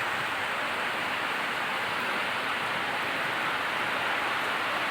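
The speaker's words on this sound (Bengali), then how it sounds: "ভালোই বৃষ্টি পড়ছে।" Steady rain falls beside the Ganges river, a dense, even hiss of drops on water and surfaces throughout, close and loud with no talking.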